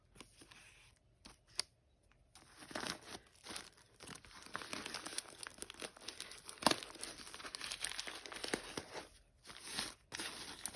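Textured decorative paper from a junk journal swap package crinkles and rustles in close, intermittent bursts, with brief pauses between handlings and soft tearing-like crackles.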